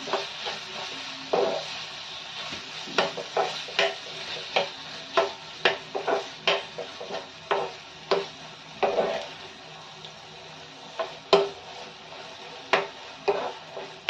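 Cabbage, peas and grated paneer being sautéed and stirred in a pan over low to medium flame, with irregular scraping and stirring strokes over a soft, continuous sizzle, close by and with no talking.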